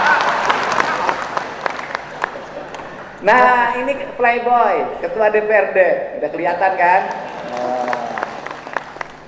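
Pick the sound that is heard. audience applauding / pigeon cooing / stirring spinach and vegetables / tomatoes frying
audience applauding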